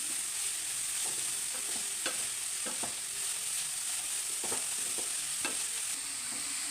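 Taro leaves being stirred through hot frying oil in a pan for chembu cheera thoran, a steady sizzle with scattered spoon scrapes and soft stirring clicks, close and continuous with no voices.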